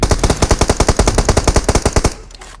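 Rapid automatic gunfire from a video game on the Miramar map rattles in a steady, fast burst for about two seconds, then cuts off, leaving a quiet tail.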